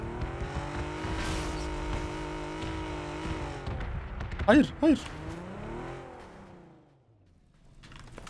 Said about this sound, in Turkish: arabanın çıkardığı sese bak